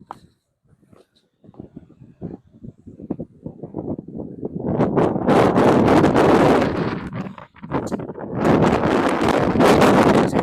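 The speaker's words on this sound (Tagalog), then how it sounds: "Pero malakas pa yung hangin." Strong wind buffets the microphone in loud roaring gusts, building from quiet rustling to heavy blasts that drop briefly and return.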